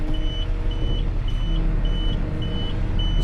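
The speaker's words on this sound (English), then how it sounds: "Shut this beeper off" A tow truck's reversing beeper sounds six evenly spaced tones, loud and close, over a steady idling engine rumble with traffic noise, and no one speaks.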